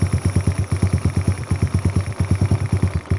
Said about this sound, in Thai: เดี๋ยวเราจะสตาร์ทแล้วก็ลองเช็คไฟดูนะครับ สตาร์ทแล้วนะครับ